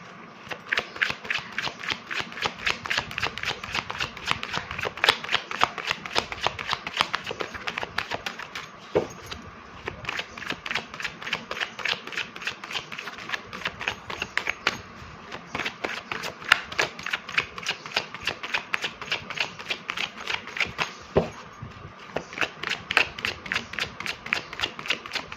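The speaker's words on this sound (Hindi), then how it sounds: "चलिए अब मैं कार्ड शफल करती हूँ और देखते हैं कि क्या आ रहा है एनर्जीज में" Tarot cards being shuffled by hand, a steady run of rapid crisp riffling clicks that carries on without pause for the whole stretch, close and fairly quiet, with no talk over it.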